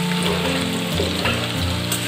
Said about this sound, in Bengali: তো আলুটাকে একটুখানি ভেজে নেবো আমি।